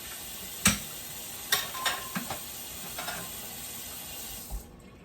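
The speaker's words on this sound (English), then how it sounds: "Just rinse that out." Running kitchen tap water rinses out a container, a steady broad wash of water broken by a few clanks and knocks before the flow cuts off near the end.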